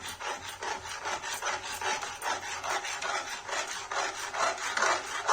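Aate ka halwa, a wheat flour sweet with sugar, is stirred in a pan. A spoon scrapes and rubs against the pan in continuous, rhythmic strokes, close by, with no voices.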